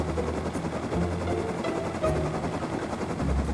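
A helicopter in the survival video game Rust gives a steady, loud rotor drone with a low pulsing throb that runs unbroken through the whole stretch, with no talking.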